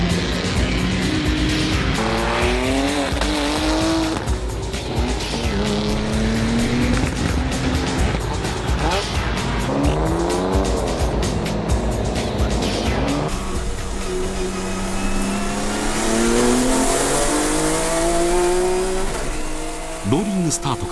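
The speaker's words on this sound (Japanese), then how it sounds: "ローリングスタートから一気に加速。 予選ブーストで650馬力、 RB26DETT の驚異の速さがよみがえる。" Nissan race car with an RB26DETT engine on qualifying boost, about 650 hp, accelerating hard from a rolling start at Fuji Speedway during a NISMO Festival. Loud, continuous engine roar with rising revs through repeated gear changes, and a brief tire squeal near the end.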